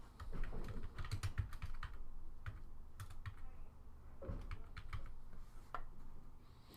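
Steady clatter of keys on a computer keyboard as an address is typed, with irregular bursts and short pauses, close and moderately loud with no talking.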